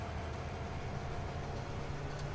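A train pulling a wagon in Farming Simulator gives a steady, continuous low rumble with rolling mechanical noise, moderately loud and unchanging throughout, with no voices.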